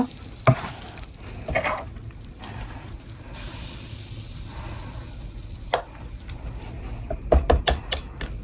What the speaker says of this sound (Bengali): সব পিঠা ভেজে ফেলবো এভাবে।